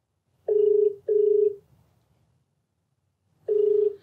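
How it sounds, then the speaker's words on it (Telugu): An outgoing telephone call rings on the line: two closely spaced tonal ring pulses, a pause of silence, then another pulse. The ring is clear and alone, with no talk. "మరి రాధిక కాల్ చేస్తాను."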